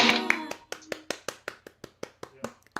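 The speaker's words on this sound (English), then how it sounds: "I'm clapping for everyone that can't clap from the comments" One person claps alone at a Passim folk club Monday Discovery Series concert, about a dozen sharp claps in a steady rhythm close by, with a brief voice at the start.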